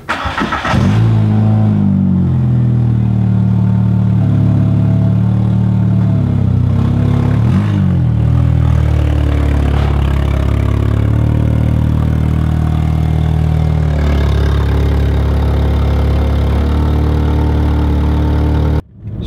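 A Volkswagen Jetta with an aftermarket exhaust idles and revs with a deep, throaty exhaust rumble, loud and close, holding steady for a long stretch before cutting off.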